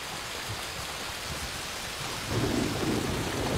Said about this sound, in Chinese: 这风声，这雨声，这雷电声